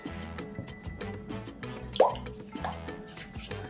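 Powdered sugar and milk being stirred together with a spoon in a bowl, giving soft wet plops and clinks at a steady pace, quiet and close with no speech.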